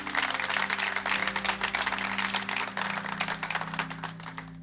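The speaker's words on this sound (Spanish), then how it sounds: "Dale un aplauso a Jesús" A church congregation claps together after a sermon, a dense wash of hand claps held over a sustained musical drone and fading slightly toward the end.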